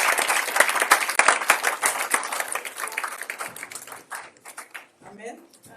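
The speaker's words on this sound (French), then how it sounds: "Pendant qu'elle s'avance, nous acclamons le Seigneur." A church congregation at a Sunday worship service breaks into dense, loud applause that thins out and fades over a few seconds.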